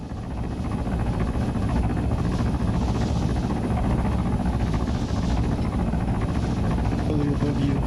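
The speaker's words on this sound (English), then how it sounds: "Heli above you." A video game helicopter hovers overhead with a loud, continuous rotor drone and a rhythmic thumping beat that swells slightly, filling the whole stretch.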